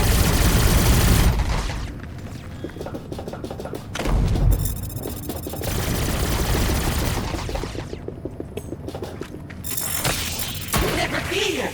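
Weapon fire in the sci-fi video game Revenge of the Savage Planet, bursts of shots and thuds mixed with game music and effects, fairly loud and dense throughout.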